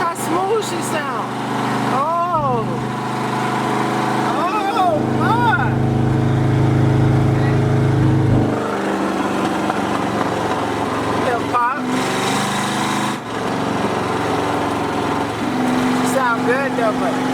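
A Corvette engine fitted with side pipes idles and revs in a smooth, steady rumble with a few rising and falling pitch sweeps. It sounds close and loud, and voices talk over it at times.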